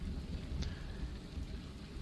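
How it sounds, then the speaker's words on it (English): Heavy rain hisses steadily with a faint roll of thunder underneath, quiet and distant with no voices. "Darkened skies and some heavy rain."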